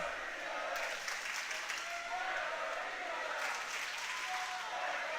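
Swim meet crowd at a boys' meet, both teams clapping together near the final 50 meters, a dense, steady wash of applause and cheering filling the pool deck without a break.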